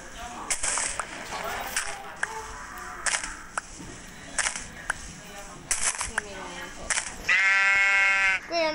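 Sheep bleat in the video game Minecraft, a rising wavering call near the end following a run of sharp clicks and short game sounds, with a voice talking intermittently through the clip.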